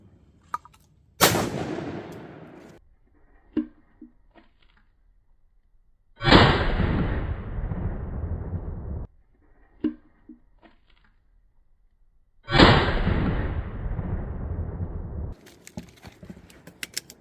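A 12 gauge Browning A5 semi-automatic shotgun fires Remington shells three times, each a sharp, loud blast spaced several seconds apart, trailing off into a long echoing decay outdoors.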